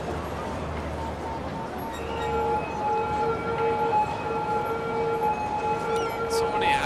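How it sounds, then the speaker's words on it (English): An ambulance siren wails in the city-building game Cities: Skylines, steady rising and falling tones over a busy traffic and city hum, with a voice talking over it. "So many ambulances."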